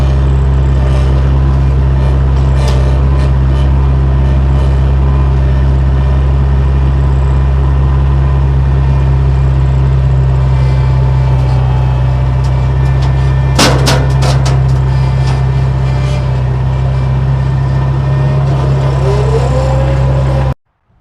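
Massey Ferguson 135 tractor engine running loud and close, a steady deep diesel throb with a faint rattle, a brief sharp knock partway through, then the engine cutting off abruptly at the end.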